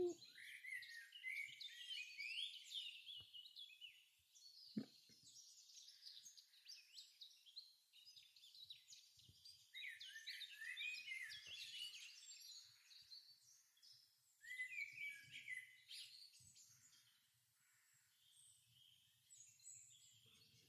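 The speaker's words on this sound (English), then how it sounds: "It's nice to hear the birds." Birds chirp and tweet outdoors in a busy, continuous chorus of high twittering calls, fairly faint and distant, with occasional low soft knocks underneath.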